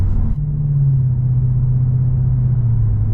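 Lexus IS 500 V8 with an ARK GRiP catback exhaust, heard from inside the cabin as a loud, steady low rumble and drone after a brief opening swell, with no talking.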